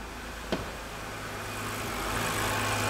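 A BMW E93 328i with an N52 engine idles steadily, a smooth low hum close by, with a single brief click near the start and the engine note rising slightly toward the end.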